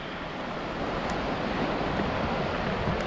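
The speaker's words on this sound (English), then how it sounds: "This is the creek. This is Trapanier." Trepanier Creek in Peachland, British Columbia, running high, gives a steady broadband rush of flowing water, close and unbroken throughout with no voices.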